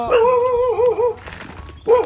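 A dog barks and whimpers close by in a Filipino home during a Christmas gift handout, a long wavering whine-bark followed by a short yelp, with no talk over it.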